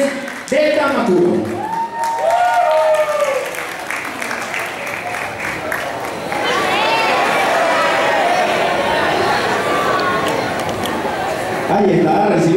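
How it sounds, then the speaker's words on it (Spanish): Crowd at a children's model pageant in Venezuela clapping and chattering, applause swelling in the second half beneath a host speaking over the sound system. "aplauso para nuestra amiga Model"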